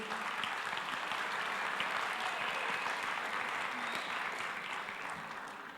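An audience at a church Bible study event applauds a presenter named Chamu, a full, even burst of many hands clapping that holds steady for several seconds before easing off at the end.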